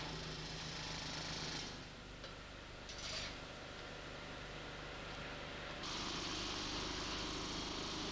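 Universal nibbler shears cutting sheet material with a straight cutting attachment, a continuous loud buzzing, chattering machine noise that runs steadily throughout and grows slightly louder near the end.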